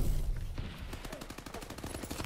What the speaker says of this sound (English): That shotgun seems to be really overpowered on this map.